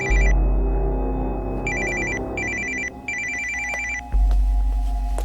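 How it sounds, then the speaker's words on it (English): A telephone rings in a tense indoor movie scene, repeated electronic ring bursts in an irregular pattern over a low rumbling background, loud and close with no voices during the ringing. "Hey, who has got the phone?"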